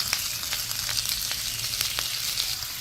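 Onion and green chillies fry steadily in hot oil, a continuous close sizzle with scattered pops and crackles throughout.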